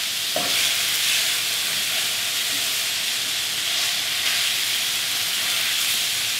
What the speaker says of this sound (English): We're going to start stirring it in with our onions and continue chopping it up